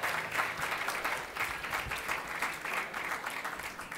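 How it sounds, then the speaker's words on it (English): A large audience at the 2014 Spirit Awards ceremony claps steadily, a dense sustained wash of applause that holds at an even, fairly loud level throughout without any voices standing out. "Please, a big round of applause for all of these people."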